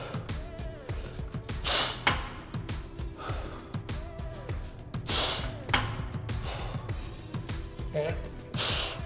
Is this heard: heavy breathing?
yes